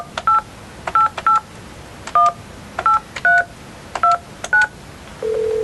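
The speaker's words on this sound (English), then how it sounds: "Then you dial your number." A sequence of touch-tone dialing beeps on a telephone or fax machine: about a dozen short two-tone presses in an uneven rhythm, ending in a steady held tone, clear and alone with no talking.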